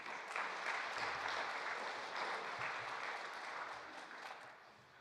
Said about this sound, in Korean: 우리 식구님들 박수를 한번 쳐주시기 바랍니다.